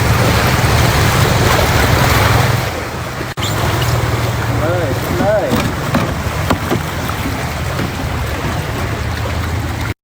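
A boat moves through floodwater in Chiang Mai, with steady engine drone and water washing against the hull. It is loud and close, and people talk over it.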